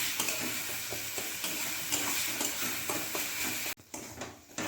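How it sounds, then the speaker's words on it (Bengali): Raw tomato mash cooking on a low-medium flame while being stirred, a soft continuous sizzle with repeated scraping strokes, close, cut by a brief drop near the end before the sizzle resumes. "এবার সব কিছু ভালো করে নাড়াচাড়া করে মিক্স করে নিচ্ছি"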